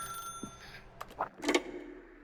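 A telephone rings in The Stanley Parable video game, with short bell-like bursts spaced apart, moderately faint and alone without talk.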